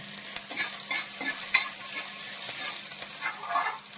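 Garlic frying in oil for a Kuttanad-style fish curry gives a constant hissing sizzle, broken by soft stirring scrapes and one brief sharper clack midway, close and with no talking.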